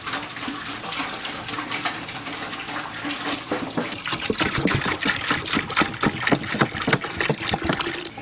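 Steady gush of milk pouring into a pot, a continuous splashing stream that grows busier and bubblier partway through, with no talking.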